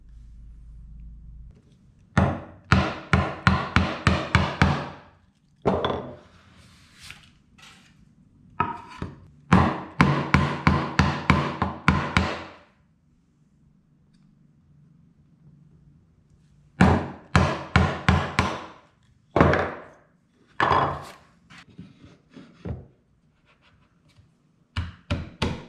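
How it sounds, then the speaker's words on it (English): A woodworker chops with a chisel down to the baseline of a step stool joint on a bench, producing loud, rapid series of sharp mallet-driven strikes in bursts separated by brief pauses. "I chop down to the baseline"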